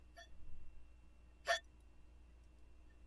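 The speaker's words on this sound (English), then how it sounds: "That was a loud hiccup for the cat." A cat in a game lets out a single loud hiccup, a short sharp burst standing alone against a quiet, steady background hum.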